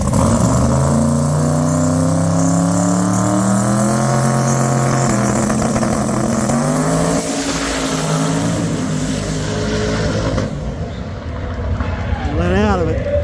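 Jeff Lutz's 1957 Chevy drag car roars loud and close, its engine pitch climbing and falling through repeated revs before dropping away toward the end.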